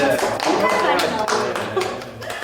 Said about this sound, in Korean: 저 박수 잘 안 치는데 박수 한번 더 주십니다.